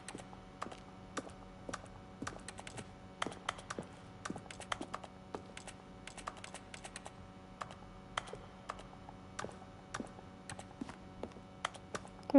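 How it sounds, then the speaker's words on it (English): Keyboard keystrokes in the video game The Stanley Parable come as irregular, crisp clicks and taps, some in quick clusters, over a faint steady hum with no talking. "When each sound is a mixed keyboard stroke."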